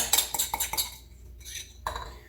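Metal utensil scraping and clinking against a mixing bowl of kale pesto, a run of quick close taps and scrapes, a short pause, then one more clink, with no talking.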